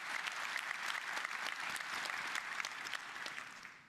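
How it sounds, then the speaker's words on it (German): Audience applause for a presenting team at a tech pitch event, a steady, dense burst of clapping from a sizeable crowd that holds level for several seconds before easing slightly at the end. "Applaus für euch."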